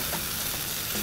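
Sate plecing spice sauce sizzles in a pan over low heat, a steady, close, hissing fry with no voices.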